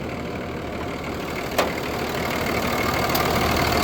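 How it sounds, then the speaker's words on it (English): A Cummins 24-valve diesel without EGR idles under the open hood of a 2004 Dodge RAM 2500, a steady close rumble with diesel clatter and a couple of brief clicks. "Sounds like your typical Cummins."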